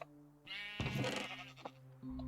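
A single Minecraft sheep bleat, clear and close, over a quiet electronic background with steady tones.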